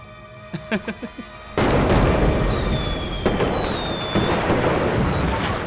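Fireworks going off at a temple: a few sharp pops, then a loud, continuous crackle with whistling rockets streaking upward, close and dense.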